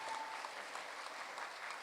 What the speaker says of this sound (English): One more time, big round of applause for Campbell Middle School up here.